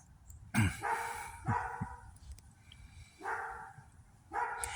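A dog barks outdoors near a bonfire gathering, several sharp, harmonic barks in uneven bursts separated by short pauses, fairly close and clear.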